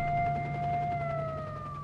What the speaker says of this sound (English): Can we shut off that siren?